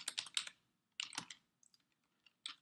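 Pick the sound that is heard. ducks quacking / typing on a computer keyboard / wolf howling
typing on a computer keyboard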